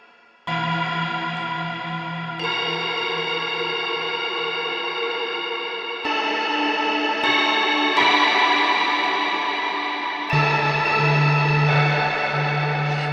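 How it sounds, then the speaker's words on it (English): Toy piano played through Audio Brewers processing, layered with chorus, distortion and echo into dense, sustained textures; notes and chords shift every few seconds, loud and continuous with no talking. "never thought a toy piano could produce such sounds"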